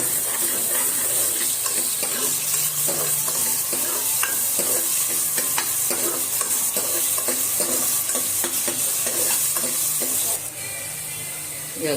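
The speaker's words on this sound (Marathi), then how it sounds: "आता आपण पहिला कांदा टाकूया फोडणीला तेल गरम झालं" Onions fry in hot oil for a village-style mutton curry, a loud, continuous sizzle with repeated scrapes and taps of a spoon stirring in the pan, easing off slightly near the end.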